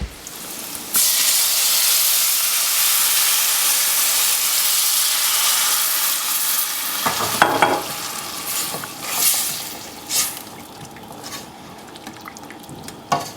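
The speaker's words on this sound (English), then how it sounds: "I'm going to just pour it in, deglaze the pan" Wine hits a hot pan and flares into a loud, broad hissing sizzle that holds for several seconds, then subsides into softer bubbling with intermittent scraping and stirring sounds.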